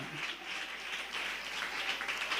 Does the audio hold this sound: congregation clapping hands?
yes